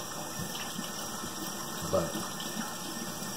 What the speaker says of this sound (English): just wash and rinse them well